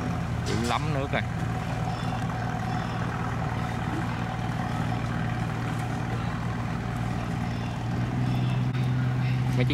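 Motorboats carrying produce buyers head back along a Vietnamese waterway, a steady droning engine hum holding throughout with a brief voice near the start.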